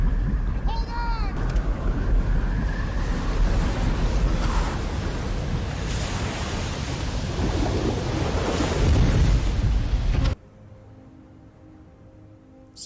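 Ocean waves and wind from the Cast Away movie as a raft fights the surf off an island: a loud continuous roar of crashing surf and gusting wind, then an abrupt drop to a quieter background, with talking underneath.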